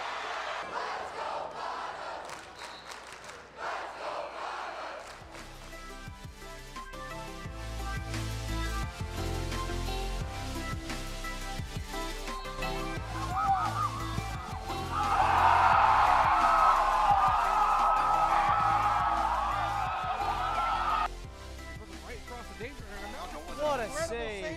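At a sports game, a crowd roars after a save, with the cheering swelling loudly midway and then fading, all under steady commentary.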